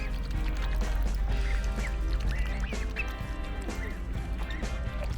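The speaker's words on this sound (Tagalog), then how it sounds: "Yung itik na kakain na yan." A duck at Wuling Farm in Taiwan gives several short quacking calls at irregular intervals over a steady outdoor background hum, moderately close and not loud.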